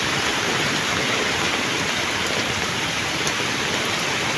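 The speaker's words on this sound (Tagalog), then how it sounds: "Ang lalim-lalim, ang lakas-lakas ng tubig mga karonda." Strong rushing floodwater coming down from a mountain produces a dense, steady broadband roar that stays constant and loud with no voices.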